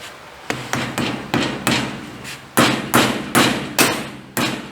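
Repeated hammer taps seat a cap onto a Mustang II front suspension part, about ten sharp close knocks in an uneven rhythm, each with a short ringing decay, no talking.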